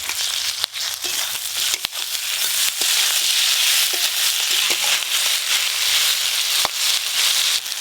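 Ginger-garlic paste frying in hot oil with chopped onions and potatoes, a loud, steady sizzle with scattered crackles and spatters throughout, no voices.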